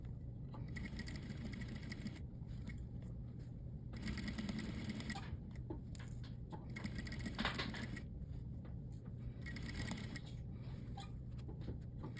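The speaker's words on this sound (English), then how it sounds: "You can go ahead and stitch right inside of that ditch to hold it in place." A domestic sewing machine stitches in the ditch along a fabric placket, running in four steady bursts of rapid, even whirring with short pauses between them, close and moderately loud.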